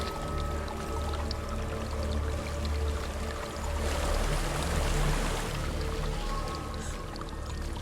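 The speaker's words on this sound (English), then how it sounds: "There's a waterfall." Continuous rushing water from a waterfall in the video game Hellblade: Senua's Sacrifice, a steady pouring wash that swells briefly midway, heard alone without voices.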